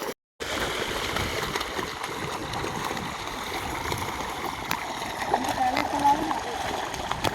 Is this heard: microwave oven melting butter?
no